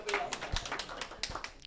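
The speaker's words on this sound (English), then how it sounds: "A round of applause for James, man." Audience applause on a local talk show, scattered claps from a small crowd, fairly faint and brief, mixed with voices talking.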